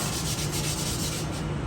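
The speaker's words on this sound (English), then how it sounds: "He cleans the flat top." A restaurant flat top griddle being scraped clean, a close, steady, continuous scraping rasp with no pauses and no voices over it.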